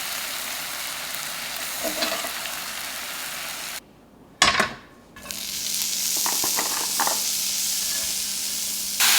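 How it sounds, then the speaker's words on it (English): Korean galbi sizzles steadily in a hot pan while being basted: a loud, continuous frying hiss that briefly drops out, then returns with bursts of crackle and spatter. "The key to good galbi is all about basting."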